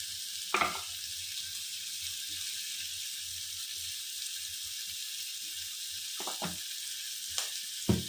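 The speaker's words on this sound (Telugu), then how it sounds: "పచ్చిమిర్చి, కరివేపాకు, కొంచెం పసుపు వేసుకుందాం" Green chillies, curry leaves and turmeric sizzle in hot tempering oil, a steady close hiss broken by a few sharp stirring clinks.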